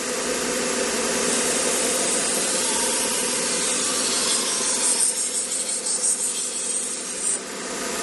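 A knife blade ground on a 1x30 belt sharpener makes a steady, close abrasive rasping hiss with the belt motor's whir underneath, continuous for the whole stretch.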